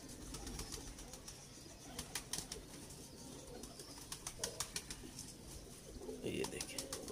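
Lal pari breed pigeons cooing softly and repeatedly, with light rustling and clicks close by, under faint talk.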